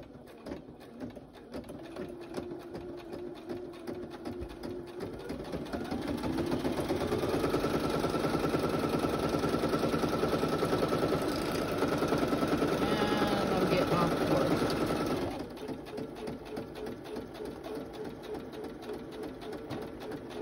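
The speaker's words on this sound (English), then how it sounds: "So I'm just going to do a straight stitch." A sewing machine running a straight stitch through paper for a file folder folio, a close, steady whirring hum that builds in speed and holds for several seconds before stopping, with quieter stretches on either side.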